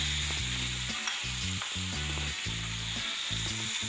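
Onion paste with ginger-garlic paste frying in hot oil for an egg curry, a constant close sizzle broken by rhythmic scraping stirs, no voices.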